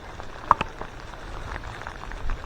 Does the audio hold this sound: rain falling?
yes